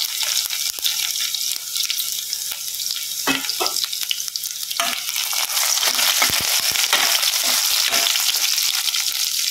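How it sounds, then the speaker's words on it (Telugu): Cumin seeds hitting hot oil alongside dried red chillies and crushed garlic crackle and sizzle loudly and close, a dense hiss with sharp popping bursts that intensify over the last few seconds, no voices. "జీలకర్ర వేస్తున్నాను అండి నేను."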